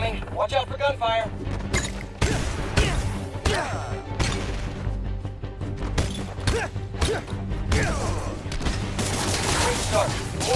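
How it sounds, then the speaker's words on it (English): Rapid bursts of enemy gunfire in a video game crack and thud repeatedly alongside impacts and crashes, loud and dense over about ten seconds, with a game voice speaking over the action. "Watch out for gunfire."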